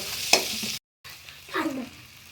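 Ginger being stirred in a frying pan for chow mein, short scraping strokes over a soft sizzle, broken by a brief silent gap before a final scrape.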